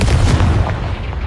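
A Confringo spell explosion in the Hogwarts Legacy video game, a loud, close, booming blast that fills the whole moment and fades slightly at the tail.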